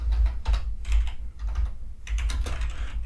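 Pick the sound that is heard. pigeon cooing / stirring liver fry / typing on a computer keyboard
typing on a computer keyboard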